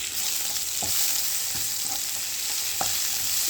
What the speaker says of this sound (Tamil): தக்காளி பச்சை மிளகாய் கருவேப்பிலை எல்லாத்தையும் இதில் போட்டு வதக்குவோம்